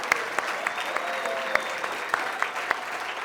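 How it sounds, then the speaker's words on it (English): An audience claps together in a steady burst of applause, with a few sharper claps standing out near the front. "Give her a clap right now if you don't mind."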